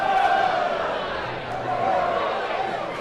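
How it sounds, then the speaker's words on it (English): A wrestling crowd in a hall cheering and letting out drawn-out woos during a championship match, a continuous roar of voices with rising and falling wooing calls, fairly loud and steady. "Crowd loving it."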